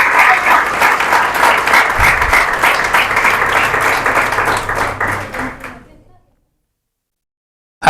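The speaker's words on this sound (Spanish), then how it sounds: "Un aplauso al Señor" A church congregation applauding during a Christian sermon, a loud, dense wash of clapping for about six seconds, with a voice briefly under it, then fading out to silence.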